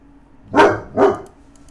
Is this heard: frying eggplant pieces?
no